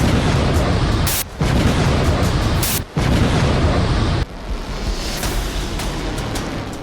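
Cluster bomb blasts in wartime combat footage form a loud, dense roar of rumbling explosions, broken by two brief cuts and a softer, sustained rumble at the end.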